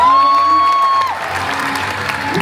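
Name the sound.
audience applauding gymnasts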